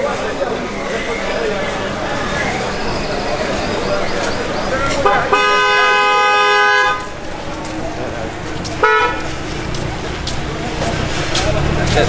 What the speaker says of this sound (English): And they're honking the horn at it.